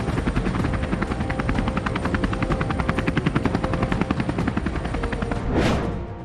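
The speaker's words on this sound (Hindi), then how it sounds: "आपको दिखा देते हैं वायुसेना की मदद करने लद्दाख पहुंचे 2 लाइट कॉम्बैट हेलीकॉप्टर।" An Indian-made light combat helicopter in Ladakh, its rotor beating in a steady loud rapid chop that stays close throughout and ends in a rising whoosh as it passes by.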